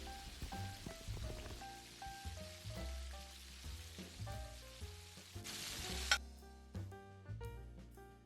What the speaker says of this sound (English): So go back and fry the next batch and we are almost there.